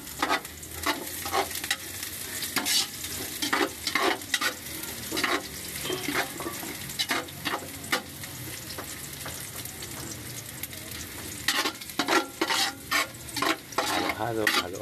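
Miso being stirred with six kilos of salmon heads in a frying pan, a rhythmic series of scraping, clattering stir strokes over a steady background sizzle, close and repeated throughout.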